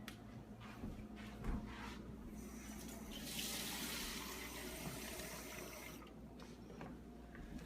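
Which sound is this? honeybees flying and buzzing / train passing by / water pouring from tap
water pouring from tap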